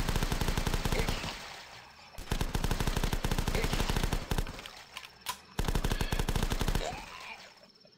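Rapid machine gun fire mowing down zombies in The Last Stand video game, three long sustained bursts of dense, loud staccato shots separated by brief pauses, with a faint voice between bursts.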